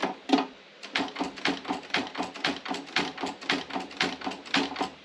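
Robotron Optima typewriter from the former East Germany, with a run of steady, closely spaced mechanical clacks from the carriage stepping along. The clicks are crisp and near, with no voices.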